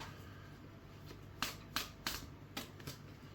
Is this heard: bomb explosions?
no